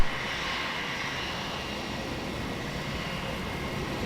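A Malaysia Airlines airliner on very short final landing at Melbourne Airport at night, heard as a steady, broad engine roar and whine that stays constant throughout, fairly loud and without voices.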